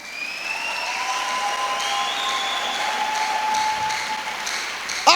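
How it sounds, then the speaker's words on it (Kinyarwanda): A church congregation applauds during a Kinyarwanda sermon, loud continuous clapping with faint high tonal cries above it, ending in a sharp knock. "Yimpera amashyi."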